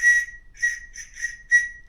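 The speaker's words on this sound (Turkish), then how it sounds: "Bu bir acil durum şeyi. Düdüğü." Short, shrill emergency whistle blasts sound three or four times in quick succession, loud and close, with nothing else heard.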